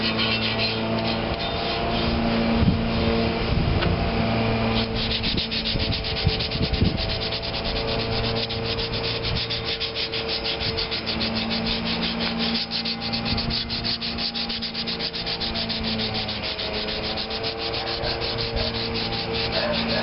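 Continuous rasping scrub of sandpaper worked by hand over the metal of a Maytag Model 72 engine stand to prep it for paint, close and even for the whole stretch, with no talk.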